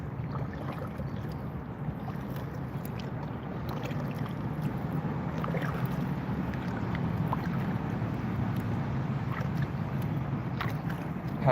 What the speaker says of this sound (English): Paddling my kayak